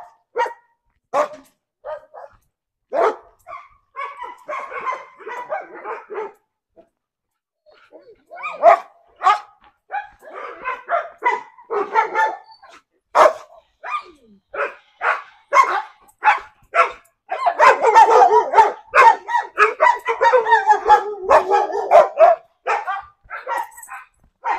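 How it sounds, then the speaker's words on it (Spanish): Aggressive dogs at a rural spot in Chiquihuitlán, Jalisco bark in sharp repeated bursts, some near and loud, some farther off, with short pauses between volleys and no clear talk over them. "aquí ya los perros como que se pusieron agresivos"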